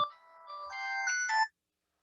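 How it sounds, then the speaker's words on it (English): A mobile phone rings with a bright electronic melody, rising tonal notes climbing in steps over about a second and a half, close and clear, then stopping abruptly into silence. "my phone keeps going off here"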